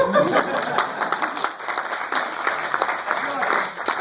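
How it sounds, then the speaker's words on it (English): Scattered clapping from a small audience of about fifteen people at a web application security club meeting, sustained and moderately loud, with voices talking and laughing over it. "Please clap."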